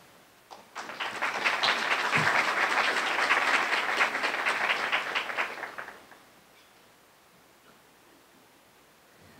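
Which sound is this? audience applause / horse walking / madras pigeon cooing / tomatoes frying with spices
audience applause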